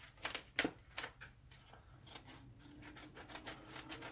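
Scissors trimming vinyl letters for a St. Patrick's Day shirt craft, a series of quiet, close, crisp snips and rubbing cuts in an irregular rhythm, with no speech.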